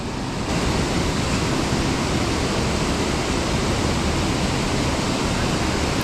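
Water roars continuously as it rushes through river rapids below a spillway, a dense, steady broadband wash with no pauses, loud and close throughout.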